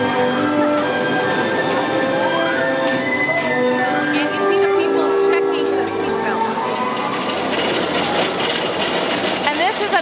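A wooden roller coaster train rumbles and clatters along its track at a theme park, with rising mechanical noise and squealing wheels, while people talk and murmur throughout.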